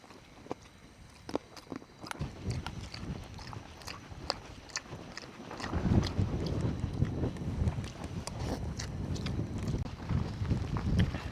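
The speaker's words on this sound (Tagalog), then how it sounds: "Tapos malakas pa yung hangin." Strong wind roars and buffets the microphone at a motorcycle campsite in Nueva Vizcaya, growing louder and steadier after a few seconds, with scattered sharp clicks and taps on top.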